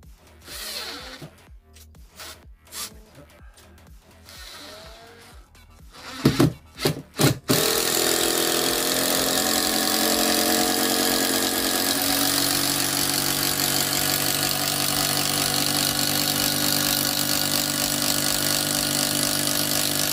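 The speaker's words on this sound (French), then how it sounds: "Donc j'utilise la visseuse à choc pour ça." Impact driver driving screws into a wooden house floor during renovation, with several short hammering bursts and stops, then a long, steady, loud rattling drive running to the end, close up.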